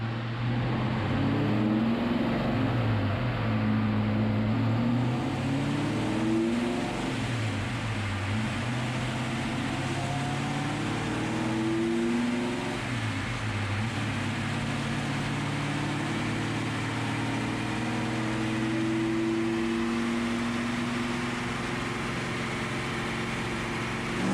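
Engine running on a dyno during a pull, a steady loud mechanical drone with harmonic bands that rise and fall through several revving sweeps, no talk over it.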